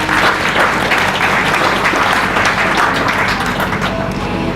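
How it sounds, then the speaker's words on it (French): Loud, sustained applause from an audience at a funeral ceremony, dense clapping filling the whole stretch at steady intensity with a faint murmur of voices mixed in. "Est-ce que vous pouvez acclamer pour ça,"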